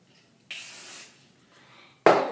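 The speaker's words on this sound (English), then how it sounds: "You just want to spray it in the back." Hairspray sprayed onto hair from an aerosol can in two short hissing bursts, a half-second spray followed by a second, louder close burst after a pause.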